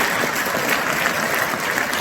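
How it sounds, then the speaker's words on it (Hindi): Loud applause from a crowd at a school prize-giving ceremony, a continuous dense wash of clapping held at an even level for the full stretch, with no speech on top. "जोरदार तालियां चाहिए मुझे, हर बार चाहिए"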